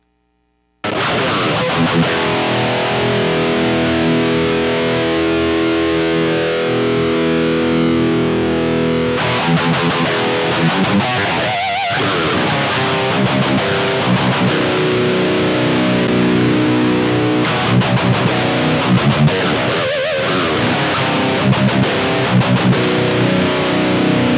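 An electric guitar plays through heavy overdrive into a Two Notes ReVolt, with gritty, sustained chords and riffs ringing out loud and continuous for over twenty seconds.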